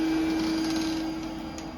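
Bitcoin miner fans inside a closed soundproof box give a steady, muffled hum with a constant low tonal drone, unchanging and enclosed-sounding.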